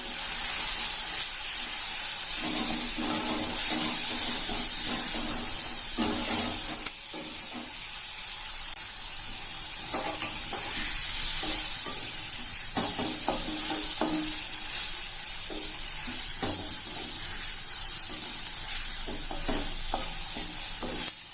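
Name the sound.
brinjal frying with spice powders in a pan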